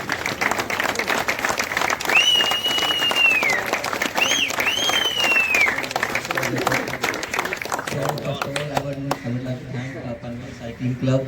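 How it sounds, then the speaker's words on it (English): An audience at a cycling club talk claps loudly and continuously for a guest rider. Whistles and cheers rise over the clapping, and voices talk through it before the clapping thins out near the end. "big round of applause for one and only Rahul Damiwal"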